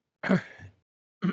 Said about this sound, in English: think someone's clearing their throat